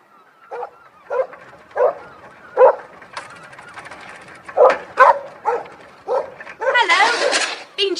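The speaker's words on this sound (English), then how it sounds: "galloped towards them at top speed, barking madly" A dog barks in a series of sharp, separate yaps and whimpering yips, close and loud, ending in a flurry of excited barking, heard as a sound effect in an audiobook reading.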